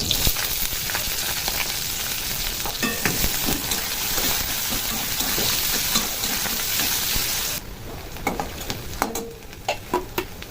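Green chillies fry in hot oil alongside fried fish and black cumin, giving a busy, close sizzle with scattered pops and stirring clicks, dropping to a quieter crackle near the end.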